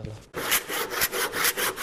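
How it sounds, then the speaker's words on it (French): Hand saw cutting wood in steady back-and-forth strokes, close and loud, about six rasping pulls in quick rhythm. "Je le fais à la main, pas à la circulaire, pour que le trait de scie soit le plus fin possible."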